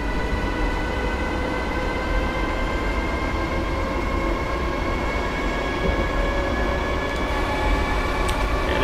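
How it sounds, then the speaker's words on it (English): An APW Class 314 electric train runs steadily in Train Simulator 2019 on the Glasgow Central line, with a continuous close rumble and a faint high whine over it. "Train sounds really, really, really nice."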